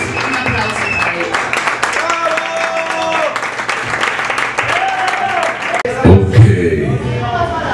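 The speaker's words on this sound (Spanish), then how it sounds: "Un aplauso para ella." Scattered applause from an audience at a karaoke show blends with music and a voice, swelling briefly louder near the end.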